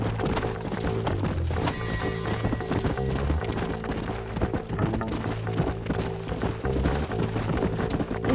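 Horses galloping in the video game Red Dead Redemption, a steady, close clip-clop of hooves running throughout, layered under a continuous music score.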